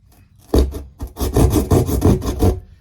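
Material tougher than drywall is cut by hand during a ceiling skylight installation, giving rapid rhythmic rasping saw strokes, loud and close, after a brief quiet start.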